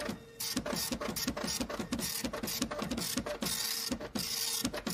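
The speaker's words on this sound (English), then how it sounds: "All right, stop printer" A printer runs through a print job, its mechanism chattering in a fast, steady rhythm of clicks and whirs, close and continuous with no talking.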